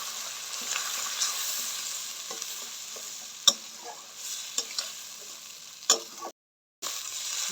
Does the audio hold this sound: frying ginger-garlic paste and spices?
yes